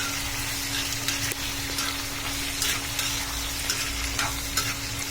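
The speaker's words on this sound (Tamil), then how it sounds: "ஒரு 4 வெங்காயம், ஒரு 2 தக்காளி போட்டு நல்லா வதக்கிடுங்க." Onions, tomatoes and mint sautéing in a pan for a mint chutney: a continuous close sizzle with intermittent stirring scrapes and clinks, alone with no voices.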